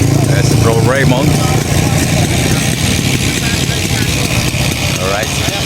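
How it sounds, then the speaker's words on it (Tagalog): Vintage motorcycles idle in a group at a ride stop in Bulacan, a loud continuous engine rumble with people chattering over it. "Ayan, ito yung mga motor."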